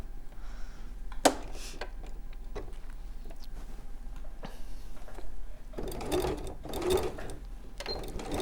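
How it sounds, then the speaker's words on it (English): A sewing machine edge stitching fabric with the stitch length lengthened to 3.5, running quietly with soft mechanical whirring and a couple of louder bursts of stitching near the end. "Oh, like proper edge stitching then? Yeah. And I'm lengthening my stitch."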